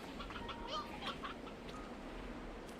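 Chickens in the Slime Rancher video game give a few soft, scattered clucks and chirps over a quiet ambient background, faint and somewhat distant.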